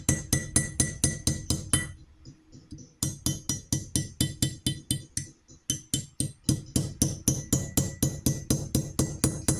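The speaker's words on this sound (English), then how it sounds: "Listen to the punch." A steel hammer strikes a punch to seat a brake caliper seal on a C3 Corvette. Steady, evenly spaced metallic taps ring clearly, close and loud, with one brief pause partway through.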